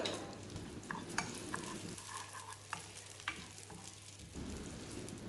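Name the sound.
moong dal roasting in ghee, stirred continuously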